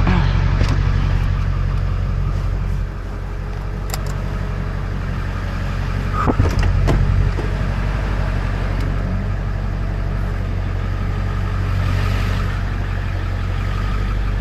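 Car driving on the road carrying a tree crew home after a dump run, a steady loud engine and road drone throughout with a couple of brief knocks partway through.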